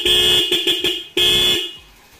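A 2012 motorcycle's electric horn honks in several short bursts and one longer blast, loud and close, its tone sounding thin from a weak battery with the engine off and headlight on.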